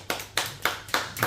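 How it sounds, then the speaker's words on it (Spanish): Four sharp, evenly spaced claps ring out close by in a slow rhythm as a talk on illustration and comics closes with thanks to the guest. "Un aplauso, por favor."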